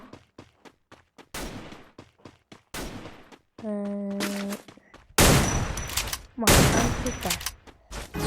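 Rapid gunfire from a shooting video game crackles in repeated sharp bursts and single shots, close and loud, with a voice speaking briefly between volleys.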